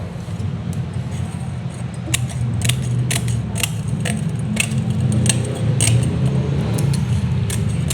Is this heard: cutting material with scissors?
yes